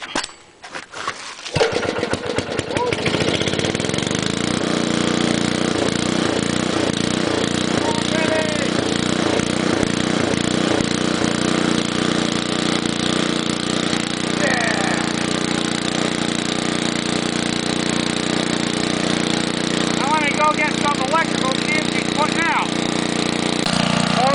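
An old Homelite generator engine cranks, catches after a second or two, then runs loud and steady with a constant mechanical drone close by.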